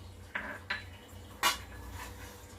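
Almonds, cashews and pistachios are stirred in a pan for carrot halwa, a few sharp clinks and scrapes of a spoon against metal at uneven intervals over a quiet background, no talking.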